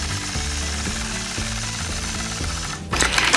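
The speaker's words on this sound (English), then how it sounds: "So I'll engage the machine, use gentle pressure, and stitch that 1/4 inch spaced line." A sewing machine stitches a quarter-inch spaced quilting line with a ruler, giving a fast, steady mechanical chatter of needle strokes at close range before a brief rustling burst near the end.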